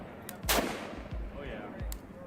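Rifle shots from a played-back recording: three sharp cracks spaced roughly evenly, the first loudest with a strong broadband burst, the others duller thumps, heard in a room with faint background noise.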